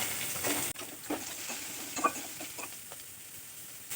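Chopped onion, green chilli, garlic and ginger fry in a pan for veg Manchurian, a soft steady sizzle with light stirring clicks and scrapes, fairly faint.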